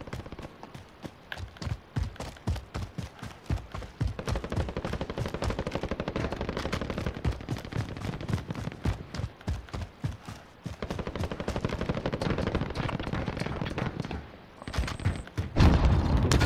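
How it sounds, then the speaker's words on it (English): Rapid bursts of automatic gunfire in a shooter video game, dense repeated shots for most of the stretch, loud and close, with a short lull near the end before a louder burst. "there was shooting"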